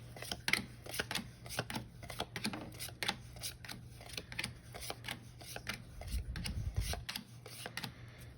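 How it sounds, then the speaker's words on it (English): A deck of tarot cards being shuffled and drawn into piles: rapid close riffling and slapping of cards in quick rhythmic bursts, with a low thump near the end, no talk. "let's go ahead and draw our 3 piles, 5 cards"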